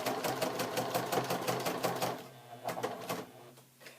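A sewing machine stitches through fabric for a pencil bag with a fast, steady needle chatter that breaks off and restarts in shorter bursts near the end.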